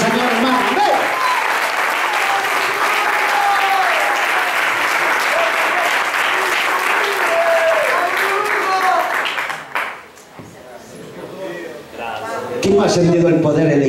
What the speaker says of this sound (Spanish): Cuando le dan un aplauso de alabanza al Señor